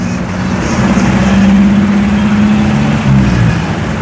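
A car engine drones loud and close, rising and falling as the vehicle rolls along a road beside a bridge being torn down over a river, with a steady low rumble throughout.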